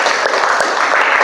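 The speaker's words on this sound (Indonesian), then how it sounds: "Oke, tepuk tangan dulu." A class bursts into a brief round of dense clapping, loud and close, lasting only a moment.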